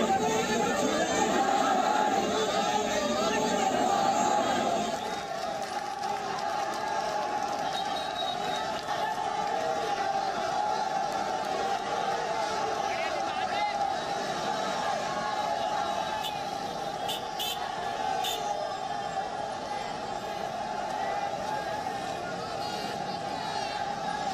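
A crowd gathers outside gate number 1 of Jama Masjid, producing a steady outdoor murmur of many voices and movement with a louder surge at the start, while a nearby voice talks over the hubbub.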